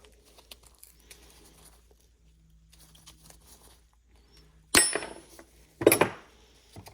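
A seized brake line on a Saturn Vue's rear drum brake system is cut off right behind its nut, giving two sharp, close metallic snips about a second apart after a quiet stretch of faint handling noise.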